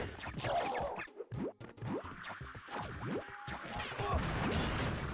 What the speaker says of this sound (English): Oh, that explosion radius didn't hit him?